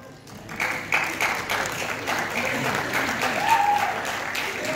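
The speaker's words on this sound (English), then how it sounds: "Thank you everyone for the claps." An audience at a college freshers' event claps steadily for a few seconds, a dense, even patter of many hands in a hall, with a voice faintly present beneath it.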